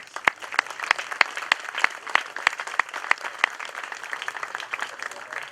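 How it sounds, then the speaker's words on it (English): Awardees at a varsity athletics awards ceremony receive steady audience applause, a dense patter of many hands clapping with a few sharper claps standing out, sustained and moderately loud with no talking. "Let's give all of our awardees a round of applause."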